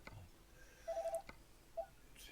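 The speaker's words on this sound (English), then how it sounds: "that's my phone." A mobile phone gives faint electronic tones in a room, a quick series of four beeps followed by a single beep, under a low steady hum.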